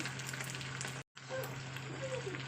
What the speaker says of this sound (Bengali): তো আমি ভাজা হয়ে গেছে এর উপর আমি দুটো পেঁয়াজ কুচি দিয়ে দিচ্ছি